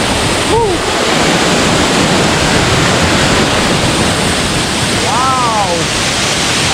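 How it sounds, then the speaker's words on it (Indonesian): A powerful waterfall in Gowa Regency, South Sulawesi, roars loudly and constantly, a dense wall of rushing water, with brief voice sounds near the start and again near the end. "Ini air terjunnya kenceng banget guys."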